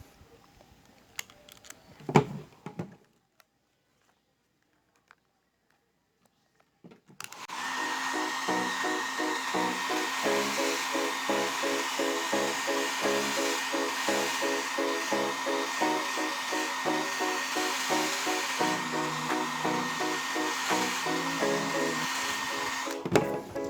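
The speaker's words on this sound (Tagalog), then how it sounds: "ito yung kailangan natin, blower" A few faint clicks and knocks, then a heat blower switches on and roars steadily and loudly, its motor pulsing slightly as it runs, heating a deformed rubber sandal strap to soften it.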